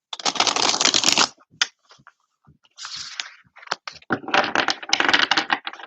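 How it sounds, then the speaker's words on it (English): Crisp bursts of tarot cards being shuffled, riffling in several quick runs separated by short pauses and light taps. "One more main shuffle."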